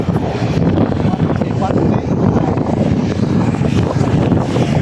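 Strong wind buffets the microphone in a continuous loud roar beside a highway at the Pasig floodway, with a faint engine or water rumble underneath.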